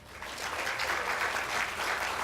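A crowd at a city State of the City event applauds a former mayor as he is introduced. The clapping swells quickly and holds steady and full for a couple of seconds, with no talking on top.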